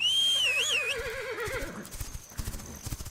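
A small horse whinnies loudly with a wavering, high neigh near the start, followed by clip-clop hoofbeats and scuffling as it moves off, with no talking.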